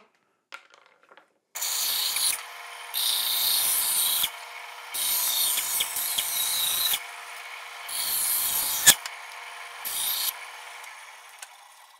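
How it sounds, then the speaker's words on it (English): A bandsaw cuts through a Kydex thermoformed battery box, then a sander works the edges, giving loud, steady rasping bursts of several seconds with short pauses between, close up and without talk. "let's go ahead and cut this out close on the bandsaw, and we can come back and sand it off to finish"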